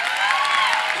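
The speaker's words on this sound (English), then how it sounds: "Clap it up for all the black doctors in the room" A crowd claps and cheers in a room during a talk, a brief dense burst of applause.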